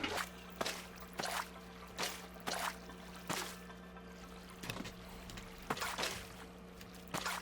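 Water being poured and placed in Minecraft, heard as a series of close, wet splashing bursts repeating roughly every half second over a steady low hum.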